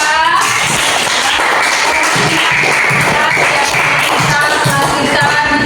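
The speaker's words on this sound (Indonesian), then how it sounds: "Tepuk tangan buat kelas kita." A school class applauding, a loud, continuous patter of many small hands clapping together in a classroom, steady and dense for several seconds.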